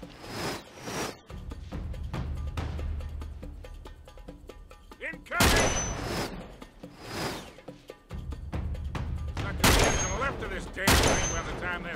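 Rifle gunfire in Uncharted 3, a video game, comes in several loud bursts and single shots spread across the stretch, with dense game noise and a voice talking between the volleys.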